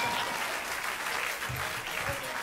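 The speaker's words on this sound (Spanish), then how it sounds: "Aplaudan." Audience applause at an unplugged rock concert, a sustained wash of clapping from a large crowd, fairly loud and continuous throughout, with faint voices mixed in.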